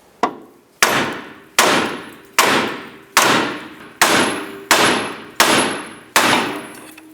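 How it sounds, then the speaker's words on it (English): Hammer blows on the steering knuckle of a 2005-10 Jeep Grand Cherokee, knocking the upper control arm loose: nine sharp metallic strikes at an even, roughly steady pace, each with a short ringing decay, loud and close. "We're now going to go ahead and strike the knuckle to separate the upper control arm"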